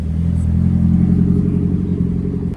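A Nissan S15 sports car drives past nearby, its engine a loud, steady mid-pitched drone that holds for a couple of seconds and then cuts off abruptly.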